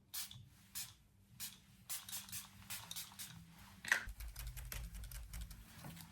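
Short hissing bursts of Trees Dewy Glow makeup fixing spray, several quick pumps in an uneven rhythm, close to the mic, with faint background hum.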